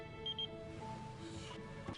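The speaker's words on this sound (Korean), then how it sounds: "의문의 번호로 삐삐가 울립니다" A pager beeps in a film scene, two short high electronic chirps heard faintly over a low background hum, followed by a soft rustle near the end.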